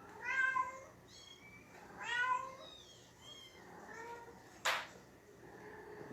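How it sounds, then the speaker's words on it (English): A mother cat with four young kittens meows repeatedly to be let out, giving several drawn-out, fairly quiet calls in a row, with one sharp knock partway through. "That's my mama kitty. She has 4 baby kittens right now, and she is wanting out from being with the kitties."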